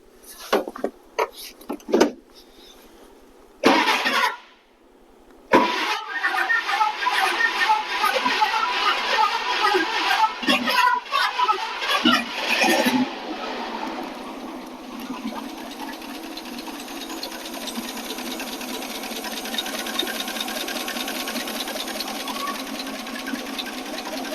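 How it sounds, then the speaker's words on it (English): An AMC 287 V8 with its vacuum leak just fixed cranks in short bursts, then catches and settles into a steady, loud, rhythmic fast idle that runs on without talk. "So it's running. The fast idle is not where I want it to be."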